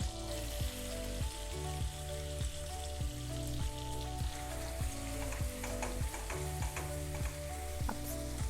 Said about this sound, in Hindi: और साथ में ही हम ये बारीक कटे प्याज डाल देंगे।